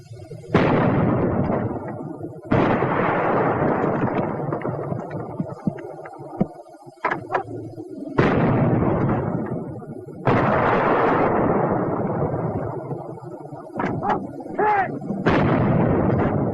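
Repeated heavy artillery and infantry weapon fire from 1942-era wartime combat, several long booming bursts with rumbling tails and sharp gunshot cracks between them, loud and close.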